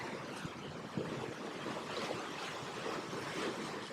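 Gusty wind rumbles against the microphone by the sea in Saint Lucia, with faint surf in the background and no talking.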